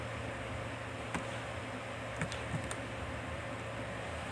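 Keyboard keys are pressed while a Ctrl+D command is entered, producing a few faint, sparse clicks near the middle over a steady hiss of room and fan noise, with no speech.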